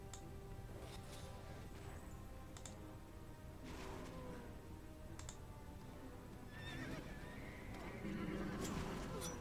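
A faint horse whinny rises from Heroes 5 game audio near the end, mixed with keyboard clicks and a person talking.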